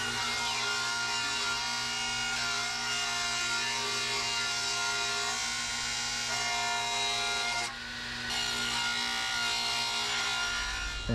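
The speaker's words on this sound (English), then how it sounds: "Lock that up, and we're gonna cut it again long ways." A table saw rip-cuts wood lengthwise with a steady, loud whining drone that holds almost unbroken, dipping briefly once before carrying on to the end.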